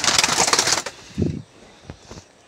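A pigeon in a loft beats its wings in a loud, close burst of flapping for nearly a second, followed by a few fainter rustles and soft thuds.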